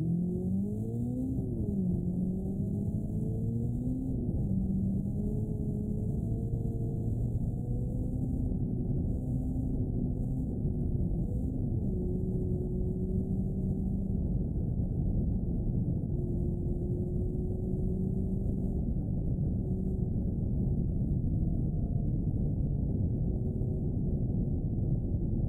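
A 1600 TFA J Klaxon car engine in BeamNG.drive drones steadily with a low, rough tone, its pitch wavering gently as revs rise and fall during a long continuous run, loud and close with no talking.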